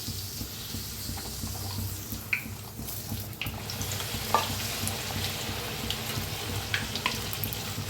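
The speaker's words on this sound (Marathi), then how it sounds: "तेल चांगलं गरम झालंय, तळून घेऊया पुऱ्या." Puris fry in hot oil with a steady, close sizzle and crackle, and a few brief clinks and stirs sound over the bubbling.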